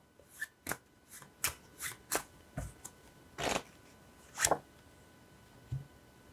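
Tarot cards being shuffled during a reading: a series of about ten crisp riffling bursts and snaps at an irregular, unhurried rhythm, close and fairly quiet, with no talking.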